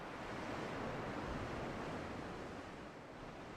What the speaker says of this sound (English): The process depends on waves hitting the beach at an angle, as they do along much of this coast.